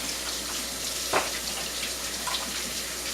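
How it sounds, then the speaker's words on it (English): Running tap water splashes over rinsing hands in a home kitchen while baking biscuits, a steady close hiss with a brief louder splash near the middle. "let me just rinse my hands quickly"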